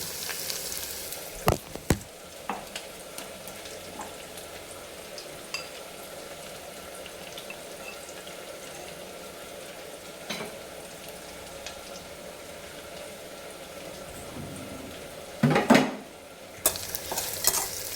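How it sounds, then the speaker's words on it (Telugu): Garlic paste frying in a pan for a bottle gourd curry, a steady low sizzle with occasional sharp scrapes and clanks of a spoon stirring, close and fairly quiet. "ఎల్లిపాయ పేస్ట్ ఇలా కొంచెం బ్రౌన్ కలర్లో వచ్చేంత వరకు అయితే మగ్గాలి"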